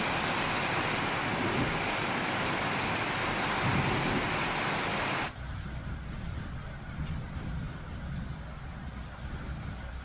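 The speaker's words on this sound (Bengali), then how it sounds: "কত জোরে জোরে বৃষ্টি পড়ছে।" Heavy rain pours down steadily outdoors, a dense, loud hiss of drops hitting surfaces that continues throughout and softens slightly partway through, with no voices.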